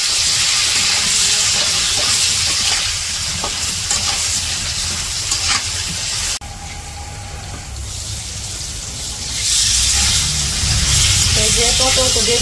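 Cut pointed gourd with salt, turmeric and chili powder fries on a village stove, a loud continuous sizzle and hiss with stirring scrapes that eases midway, then swells again.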